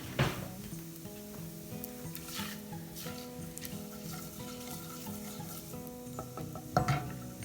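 Cumin seeds sizzle in hot oil in a pan, a steady crackling fry under faint tonal hum, with a couple of louder utensil knocks near the end.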